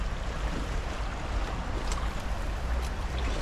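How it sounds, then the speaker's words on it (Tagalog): Strong rushing water on the way to a fishing spot, a dense, loud, steady roar of flowing current with no pauses. "Malakas nga lang ang lagas-las ng tubig."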